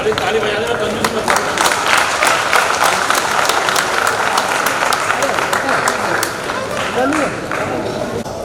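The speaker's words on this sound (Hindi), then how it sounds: "ताली बजा देना कंजूस मत।" An audience at a cooperative society's annual general meeting applauds steadily and loudly for several seconds, a dense field of claps with speech running over it.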